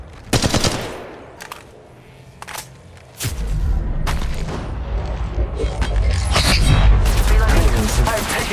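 Gunfire in the mobile battle royale game Apex Legends Mobile: loud bursts of automatic weapon fire with booming impacts, sharp volleys early, then a dense rumbling barrage, with brief game voice lines over it.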